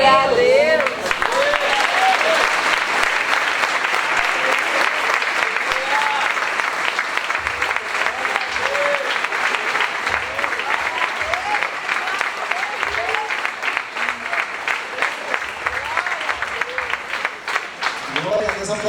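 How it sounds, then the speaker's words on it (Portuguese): A church congregation at a Brazilian evangelical service claps loudly and continuously, dense sustained applause with a preacher's voice and shouts rising over it throughout. "aplauda mais forte"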